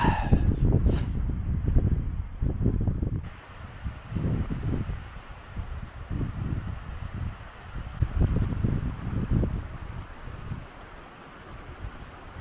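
Strong gusting wind in a snowstorm on a winter hike in the Carpathian mountains, roaring and buffeting the microphone in heavy low rumbling surges, loud and continuous with rustling noise on top.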